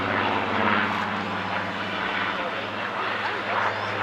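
A Supermarine Spitfire flies a display at the Clacton Airshow, its propeller engine giving a loud, sustained droning roar that holds steady throughout while a commentator talks over it.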